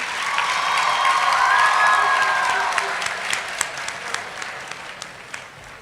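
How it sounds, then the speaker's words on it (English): Applause from an audience, loud and sustained at first, then thinning out into scattered claps as it fades. "let's give another round of applause for Gracie Cooley from Sullivan High School"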